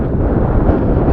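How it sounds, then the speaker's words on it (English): Strong gusting wind buffets the microphone during a ride on a modified Ecotric e-bike in windy weather, a dense low roar that fills the brief moment alone. "It's too windy."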